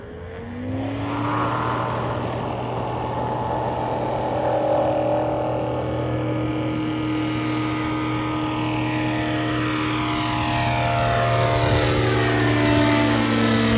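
Light Kitfox aircraft engine with an E-Props propeller on takeoff, a loud steady drone with a strong low hum and rising harmonics as power builds and the plane accelerates down the strip, close and continuous throughout.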